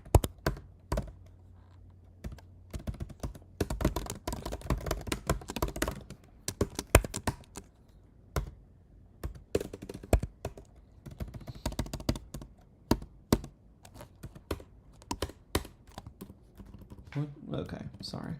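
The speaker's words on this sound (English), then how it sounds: "I'm not used to the Mac keyboard apparently." Fingers tap on a Mac computer keyboard in quick clattering bursts with short pauses between, close and crisp, while a person talks intermittently over the keystrokes.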